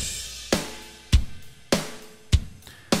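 A plain rendered drum track without effects plays in a steady pattern of alternating punchy kick and snare hits, roughly two per second, dry and close with no voices.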